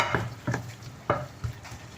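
Leftover lechon kawali chopsuey with carrots and a splash of water is stirred in a pan, giving four scraping, clattering strokes at an uneven pace over a faint background sizzle, close and moderately loud with no talk.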